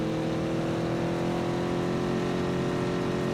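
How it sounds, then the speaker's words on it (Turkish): A car drives in the PUBG video game, its steady engine droning with a constant hum, fairly loud and close, with no talk over it. "önde araba gidiyor"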